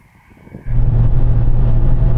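A Porsche Cayenne Turbo launches hard in a drag race, its engine jumping from near silence to a loud, sustained, steady roar close by, with no talking.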